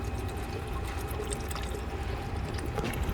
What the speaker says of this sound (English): I'm holding the oil drain plug there so it doesn't splash against this bracket right here.